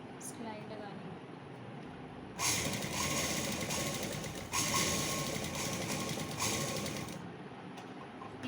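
A sewing machine stitches along piping on a night suit, a close, steady mechanical whir that starts after a quiet room hum and runs for several seconds before stopping.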